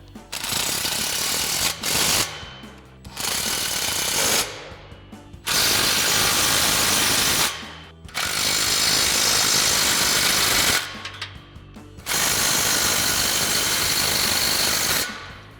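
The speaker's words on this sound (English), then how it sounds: "we can go ahead and tighten all of our spring bolts down using our 14 mil swivel socket and extension on our impact" An impact wrench with a 14 mm swivel socket and extension tightens exhaust spring bolts on a 2022-2024 Toyota Tundra. It runs in five loud, sustained rattling bursts separated by short pauses.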